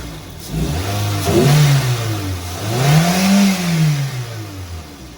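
A car engine idles, then revs up twice in smooth, swelling pulls that rise and settle back down, close by with no talking.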